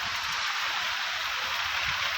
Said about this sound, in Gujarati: આવો વરસાદ આવ્યો છે